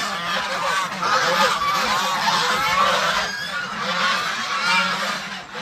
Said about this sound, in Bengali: রাজহাঁসগুলো